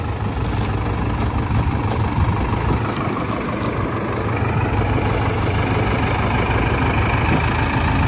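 A 4x4 tractor, stuck and being backed out, runs with a loud, steady, rumbling engine drone, close and continuous throughout with no talk.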